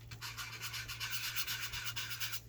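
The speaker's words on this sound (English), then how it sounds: "some sandpaper around the edges." Sandpaper rubs around the edges of a Victorian paper scrap cut from a book, in quick, even back-and-forth strokes, close and steady, with a faint low hum beneath and no talking.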